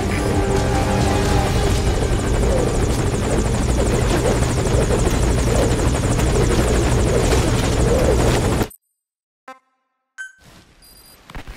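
Helicopter in the video game Metal Gear Solid V: Ground Zeroes, a loud continuous rotor roar lasting about eight and a half seconds, then cutting off abruptly into near silence with a few faint blips.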